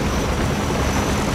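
A helicopter's rotor and engine drone in Project Reality, likely a Black Hawk, steady and loud throughout with no voices.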